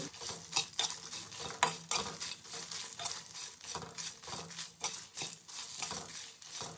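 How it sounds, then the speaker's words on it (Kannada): Byadgi chillies and whole spices dry-roast together in a pan, scraped and tossed with a spoon in repeated rhythmic rattling strokes over a light crackle, close-up with no voices. "ಎಲ್ಲ ಸ್ಪೈಸಸ್ನ ನಾನು ಒಟ್ಟಿಗೆ ಹುರ್ಕೋತಾ ಇದ್ದೀನಿ"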